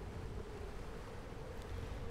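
A sailing boat crosses ocean waves in the Sailaway sailing game, with a steady low wash of surf and wind blowing without pause, quiet and unbroken, no voice.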